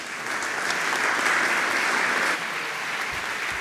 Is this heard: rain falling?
no